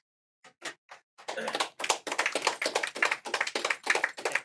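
Small audience clapping for a player at a Yu-Gi-Oh! local tournament night, starting with a few scattered claps then swelling into steady, close applause from a handful of people.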